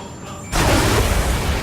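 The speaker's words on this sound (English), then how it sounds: "Missile away." A missile explosion in the Ace Combat 7 jet combat game: a sudden loud broadband blast that cuts in after a quieter half-second and holds as a sustained rumbling roar to the end.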